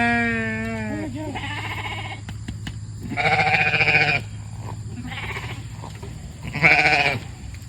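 Sheep bleat at morning feeding time on a homestead: several loud, wavering calls, some overlapping, with short pauses and a steady low background hum.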